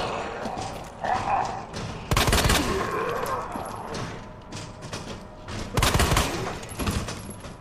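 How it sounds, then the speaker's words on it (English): Burst-fire gunshots in the Resident Evil 2 remake, two loud, sharp volleys of rapid shots spaced a few seconds apart over low game ambience. "this burst fire thing is shit"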